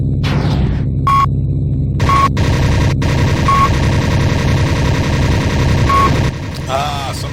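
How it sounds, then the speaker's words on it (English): Machine guns firing from a P-38L fighter in the Linux Air Combat flight game, sustained rattling bursts over a steady engine drone, loud and close, broken by short gaps and a few beeping tones. "He's in the area as I open fire on Chief"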